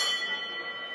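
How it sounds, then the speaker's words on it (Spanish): A bright metallic boxing round bell rings out, its sustained tone slowly fading over less than a second, loud and alone. "Suena la campana."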